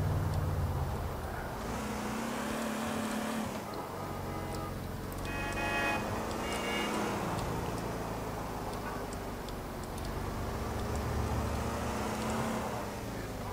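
A car cruises through city streets in GTA IV, a steady engine and road drone running throughout with faint ticks and a brief horn-like tone, loud and continuous under game ambience.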